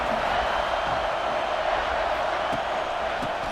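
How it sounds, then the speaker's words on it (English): A football stadium crowd cheers during a third-down play in the red zone in an Iowa versus Indiana game, a dense, continuous roar of many distant voices with occasional sharper shouts rising out of the din. "this crowd is at fever pitch"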